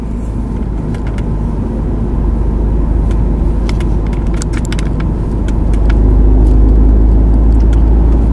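BMW E36 316i with a short 4.44 differential accelerating in fifth gear from 40 km/h, a steady low engine drone and road rumble heard from inside the cabin, rising slightly in loudness toward the end.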